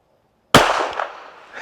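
A single sharp rifle shot cracks out at an outdoor shooting range after a moment of silence, close and loud, with the report echoing and fading away.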